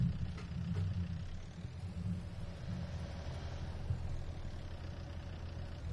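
A wheel loader's engine runs in a low, steady rumble at moderate distance while tires are scooped up at an abandoned race track, with no speech over it.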